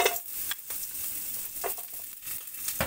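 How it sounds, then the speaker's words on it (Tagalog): Ginger frying in cooking oil in a pan, a steady close sizzle with stirring clatter and scraping bursts, while sautéing for a native crab and vegetable dish cooked in coconut milk. "Lagyan na natin mantika. Paggisa lang yan. Nunagawa natin yung luya para mabango."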